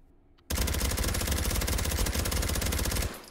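Suppressed PP2000 submachine gun in the H3VR video game fires one long, loud unbroken automatic burst of rapid, evenly spaced shots, starting abruptly and running about two and a half seconds before cutting off.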